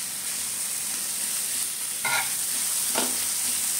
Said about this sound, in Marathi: कांदा जरा मस्त भाजून घेऊया